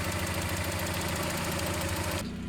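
A Mazda MX-5 Miata engine runs steadily at close range with a loud, even mechanical drone and rhythmic knocking pulse, its engine mount worn so the engine shakes; the tone drops abruptly near the end.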